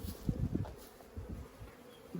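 Honeybees buzz around a hive in early spring during a colony split, with a low drone and a few louder passes close by.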